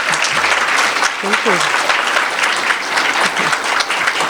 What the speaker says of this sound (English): So if you can please join me in a round of applause to welcome our speakers.